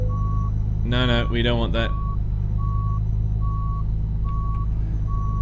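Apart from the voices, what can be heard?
truck reversing beeps in Euro Truck Simulator 2 video game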